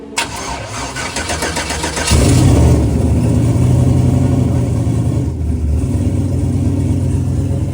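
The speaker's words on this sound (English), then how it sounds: "Get that first cold start." Car engine fitted with a very cheap turbo cranks briefly and fires into a loud, steady idle on its first cold start, rumbling close by with no talk.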